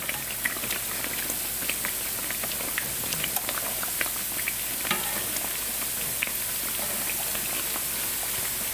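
Pieces of soda bread frying in hot oil, giving a dense, continuous sizzle with small crackles and pops throughout, close and steady, with no voices.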